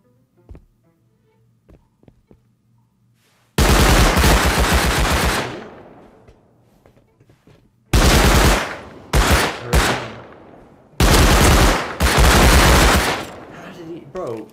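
Gunfire in Rust Console Edition erupts in loud bursts of rapid automatic shots, separated by short quiet gaps and faint clicks, with a few isolated single shots between the longer volleys.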